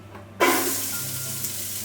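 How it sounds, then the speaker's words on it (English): Onions drop into hot olive oil in a pot and burst into a sudden loud sizzle, which settles into steady, close frying. "Let the onions brown up a bit."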